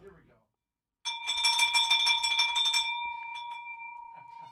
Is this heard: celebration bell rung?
yes